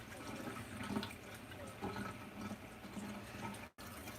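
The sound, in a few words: tap water running while rinsing makeup brush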